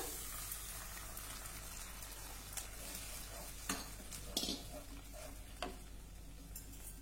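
A strained, ground sweetcorn mixture is stirred into sautéed carrots in a pan, giving a steady low sizzle with a few sharp spoon scrapes and clinks against the vessel.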